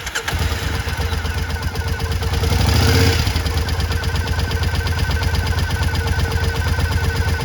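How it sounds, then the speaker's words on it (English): A Triumph America motorcycle engine cranks and catches, swelling loudly around the start, then settles into a steady, close, rapid-firing idle that runs on alone. "we're going to fire up the bike, let it run for about 30 seconds"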